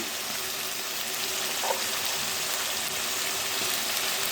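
Ginger garlic paste fries in a pan with a steady, even broadband sizzle that holds unchanged throughout, with no talking over it.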